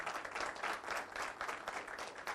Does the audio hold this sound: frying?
no